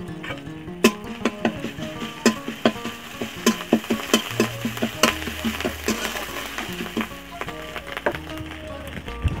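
Ginger and garlic paste frying in oil, with a soft sizzle under a rapid series of sharp spoon taps and scrapes against the pan, close up, a faint low hum running beneath.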